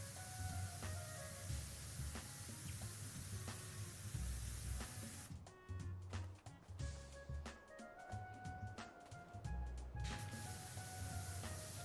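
A pressure washer with a triple nozzle in the game Powerwash Simulator 2 sprays in a continuous hiss over a low rumble, with short bursts and pauses and no talking.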